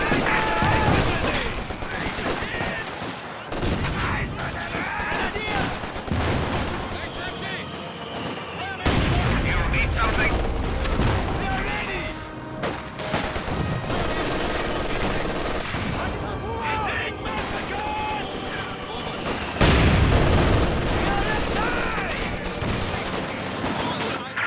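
A machine gun team firing in Company of Heroes 2, with rapid bursts of automatic fire mixed with rifle shots and heavy artillery booms, loud and continuous with several sudden surges in intensity.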